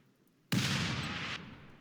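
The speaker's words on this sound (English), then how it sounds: "when it hits, the explosion will immediately go through the channels that you created" A sudden loud explosion from an Aerodrone Strike in Rimworld: a sharp blast bursts in after half a second of near silence, then a heavy rumbling roar holds before tapering away.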